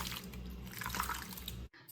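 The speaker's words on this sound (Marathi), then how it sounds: "आता आपल्याला हा राजगिरा स्वच्छ धुवून घ्यायचा आहे" A brief, quiet swish and slosh of water as amaranth grain is rinsed by hand, heard up close.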